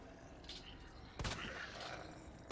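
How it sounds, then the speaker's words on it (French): A single gunshot fired in the Resident Evil 2 remake, a sharp burst about midway through over a steady game background, moderately loud and close. "j'ai tiré là alors qu'il avait pas bougé"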